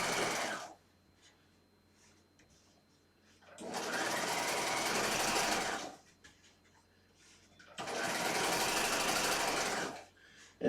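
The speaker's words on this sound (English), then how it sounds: "I'm just stitching down the center of this part of the hem that I'm rolling back" A sewing machine runs down the center of a rolled hem on thin fabric such as organza or chiffon, in two steady, even whirring runs of a few seconds each, separated by a quiet pause.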